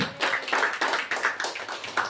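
A church congregation claps hands together loudly in a quick, roughly rhythmic pattern, many hands striking at once close by, the beats running evenly with no voices heard over them.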